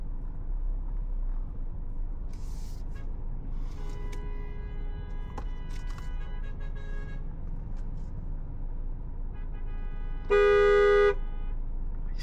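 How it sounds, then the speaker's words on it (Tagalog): A car horn gives one sustained honk, loud and near, amid steady road traffic rumble on NLEX heading north toward Tarlac, with other faint tonal horn toots earlier in the jam. "Si daddy ata yung nakikibusinin."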